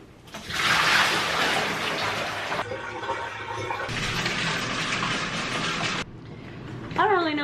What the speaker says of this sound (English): I'm just going to dump the dyed water.